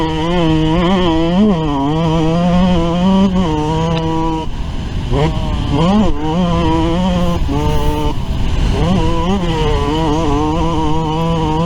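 A Yamaha YZ125 two-stroke dirt bike rides a motocross track, its engine loud and close, revving up and down continuously through gear changes with sharp rising and falling pitch sweeps.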